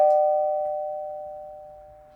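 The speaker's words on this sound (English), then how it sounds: "It's been a while since I've used the doorbell." An old doorbell rings once, a single clear tonal ding with a long fading sustain, close and alone in a quiet setting.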